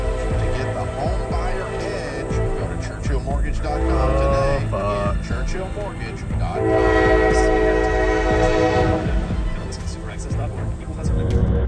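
A freight train passes with its horn blaring in long, steady blasts over the low rumble of rolling wagons, while voices talk underneath.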